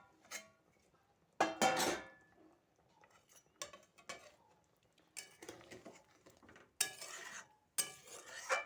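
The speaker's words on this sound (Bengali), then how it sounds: "আমি এবার ঢাকনাটা খুলে দেখব মাংসটা সিদ্ধ হয়েছে কিনা।" Metal pot lid lifted off a pot of desi chicken curry with potatoes, a few bright clattering clinks and scrapes in separate bursts, close by, with quieter handling sounds between them and no talking.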